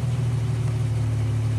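Car engine idling steadily at about 800 to 900 RPM with an onboard air compressor running, a loud, close, even low hum with no talking.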